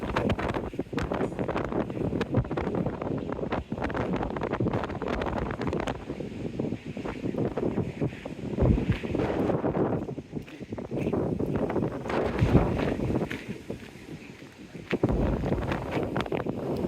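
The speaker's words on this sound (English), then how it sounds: "the wind is hitting my camera a little bit, my phone, making it a bit extra shaky" Steady wind rumble buffets a phone microphone on a seawall by the beach in Teignmouth, with gusty low-frequency thumps and a brief lull near the end.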